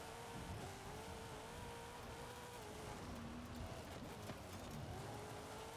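Race cars in Forza Horizon 5 drone through a race, a steady engine hum with slowly rising and falling pitch sitting under a dense, noisy wash of road and tire sound, faint overall.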